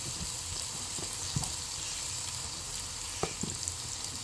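Ginger, garlic, turmeric and chili powder sauté in oil in a pan for country chicken gravy, making a steady, close sizzle with a few light clicks of a spoon against the pan.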